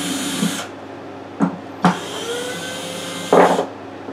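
A wooden guitar bridge caul drops and clatters onto a workbench after the clamp's drywall screws with finish washers are removed, giving a few sharp knocks in a quiet workshop and then a louder final clatter.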